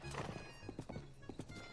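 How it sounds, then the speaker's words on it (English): Horses clip-clop with quick, uneven hoof thuds, close and moderately loud, in The Legend of Zelda: Breath of the Wild, with no talking over them. "And you see those horses over there?"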